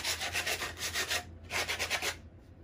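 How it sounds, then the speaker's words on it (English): Hand sanding the rough edges of a wooden piece for a homemade suet bird feeder: close, rhythmic back-and-forth scratchy strokes in two bursts separated by a short pause, with no talking. "sand out those rough edges"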